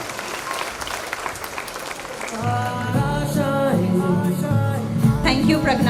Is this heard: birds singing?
no